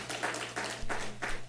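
A church congregation claps together, with four soft, evenly spaced rounds of applause heard at a distance over a low steady hum.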